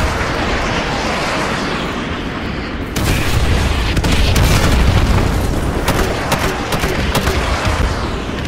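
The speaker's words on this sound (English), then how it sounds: "Fire mission received. Artillery inbound." Deep booming artillery explosions in Call of Duty Modern Warfare Remastered, loud and continuous, with a sharp surge of heavier blasts and rumbling impacts partway through and no talk.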